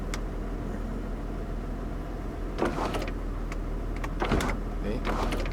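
A power sunroof on a Mitsubishi 3000GT SL whirs open in a couple of motorized bursts inside the cabin, set against a steady low background hum with some rustling.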